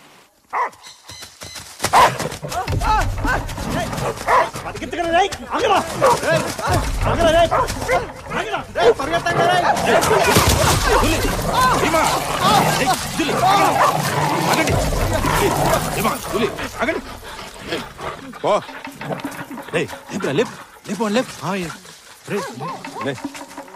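Dogs bark and yip repeatedly in a film chase scene, loud and busy, mixed with scuffling, movement noise and voices throughout.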